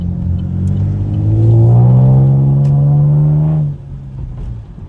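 A Chevrolet Camaro engine revs up loudly while driving, its rising drone climbing steadily for about three seconds before the throttle drops off to a lower cruising rumble, heard from inside the car.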